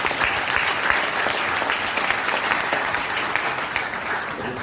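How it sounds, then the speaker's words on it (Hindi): An audience claps steadily at a sales talk, a dense, even roar of many hands that holds for several seconds without pause. "ताली बजा दो यार।"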